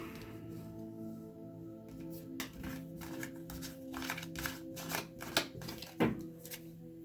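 Tarot cards are shuffled and handled in a quiet room, with soft papery riffles and taps that build into a cluster of crisp snaps toward the end.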